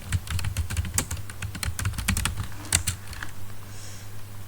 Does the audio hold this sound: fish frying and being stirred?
no